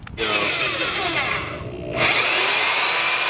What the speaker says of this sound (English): We're gonna go back through and actually drill the right size holes